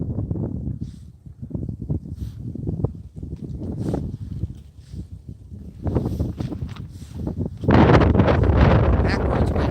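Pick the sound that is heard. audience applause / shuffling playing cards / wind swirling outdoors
wind swirling outdoors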